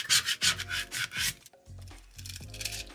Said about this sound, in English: I like to flip over the image and scrape the back.